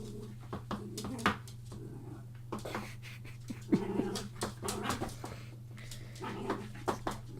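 A dog moving around a room, with scattered thumps, scrabbling and soft whimpers over a steady low electrical hum.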